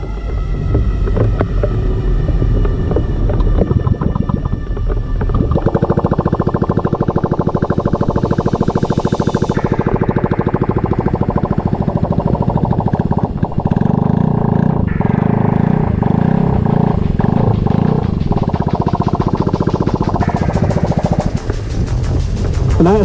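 A small motor engine is started and keeps running, loud and close, with a steady droning hum that shifts in pitch partway through. No voices are heard over the engine.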